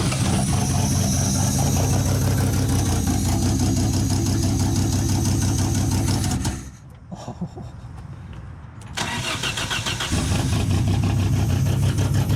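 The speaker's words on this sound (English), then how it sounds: "It's so fucking crazy that it's idling." A race car engine idles loud and close with a steady low rumble, dropping out briefly for a couple of seconds near the middle before the idle returns.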